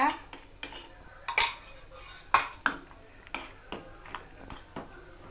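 Pal sakkarai pongal with cashews and raisins is stirred in a pot, a spoon knocking and scraping against the metal in irregular clanks and taps, fairly close and fairly quiet.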